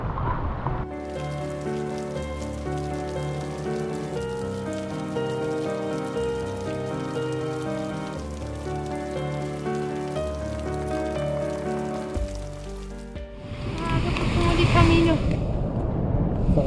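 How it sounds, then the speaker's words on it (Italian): Steady heavy rain falls during a mountain thunderstorm near an alpine refuge below Pizzo Camino, a dense continuous patter on surfaces, ending in a louder wind-blown rush of rain. "sta piovendo ancora"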